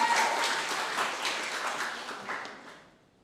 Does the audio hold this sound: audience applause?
yes